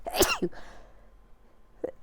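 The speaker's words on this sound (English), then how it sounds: "I feel like I'm gonna sneeze." A woman sneezes sharply and close, followed by a short breathy catch and, after a quiet pause, a brief faint sniff or second breath.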